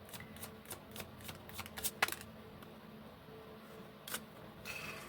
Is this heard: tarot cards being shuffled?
yes